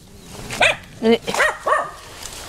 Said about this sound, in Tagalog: Maraming alagang aso.